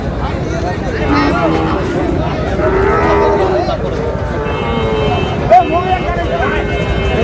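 A Sahiwal bull moos at a busy cattle market, long low calls rising over dense crowd chatter and traffic noise, with people talking loudly throughout.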